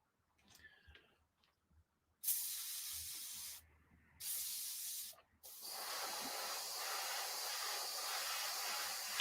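An airbrush sprays hobby model paint in three loud, sustained hissing bursts, the last one long and steady, after a few faint clicks and handling noises.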